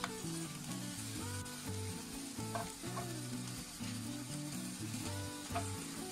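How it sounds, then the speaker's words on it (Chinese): A fruit breakfast pancake brushed with vegetable oil and flipped to fry its other side in a pan: a quiet, steady sizzle with faint crackles, close and continuous, with some unrelated tonal background sound underneath. "然后在上面薄薄的刷上一层植物油， 再把它翻过来烙另一面。"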